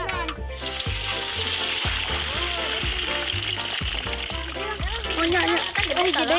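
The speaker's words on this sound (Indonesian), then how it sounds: "Aku lanjut menggoreng lelenya" Steady sizzling of catfish frying in hot oil, with music and a voice running over it throughout.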